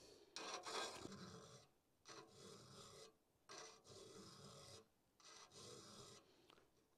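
A file rasps across the teeth of a cross cut saw in five or six short bursts of scraping strokes, each about a second long, separated by brief pauses, close and fairly quiet.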